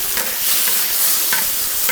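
Tomato and egg stir-fried in a wok with garlic, a steady close sizzle broken by scraping spatula strokes, with no voices.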